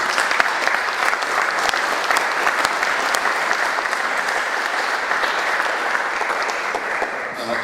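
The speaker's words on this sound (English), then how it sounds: "Big round of applause for Hardeep." A debate audience gives a big, dense round of applause for speaker Hardeep Singh Kohli, loud continuous clapping sustained throughout with a faint crowd murmur.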